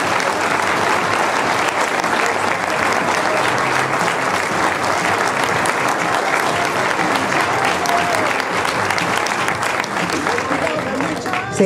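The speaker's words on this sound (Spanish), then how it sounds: "Un aplauso, muchas gracias." Sustained, dense applause from an audience at a centenary ceremony, loud and steady throughout with crowd noise mixed in.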